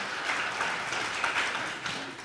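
An audience at an auto-cross event in Badefols-d'Ans applauds in a steady, moderately loud wash of clapping that holds throughout without talk.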